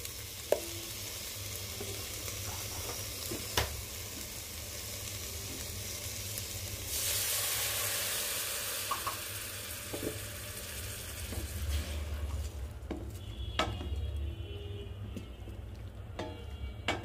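Beef sizzles in a pan with ginger garlic paste, a steady frying hiss under a low hum that grows louder for a stretch, then eases into quieter crackles and a few sharp clinks near the end; nobody speaks.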